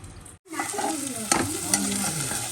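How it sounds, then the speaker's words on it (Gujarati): Onion, carrot, cabbage, potato and rice fry in hot oil with a close, steady sizzle, broken by a short pause and scraping stirs of a spoon through the pan. "બધું ફ્રાય થઈ ગયું છે"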